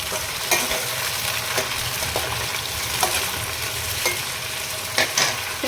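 Tomatoes fry in a hot pan with a steady close sizzle, punctuated by a handful of clinks and scrapes from stirring, no one speaking.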